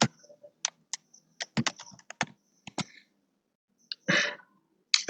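Computer keyboard typing, close and crisp, with scattered individual key clicks in short irregular bursts separated by quiet gaps and a few louder thumps.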